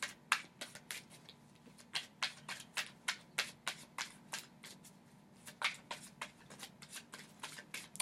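Repeated crisp riffling bursts of cards being shuffled, close up, in a steady rhythm with brief pauses, no voices.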